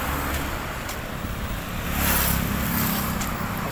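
Steady roadway traffic rumbles on a busy road in the Philippines, with cars and heavier vehicles passing close by and a swell of louder engine noise midway.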